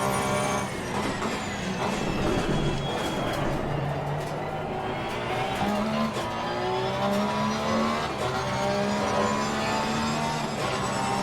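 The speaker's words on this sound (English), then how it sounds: "So concerned about revving this car out in first because it just hits that limiter so quickly" Race car engine in Assetto Corsa Competizione, revving hard through the gears with rising and falling pitch sweeps and repeated shifts, loud and steady throughout, with no voices over it.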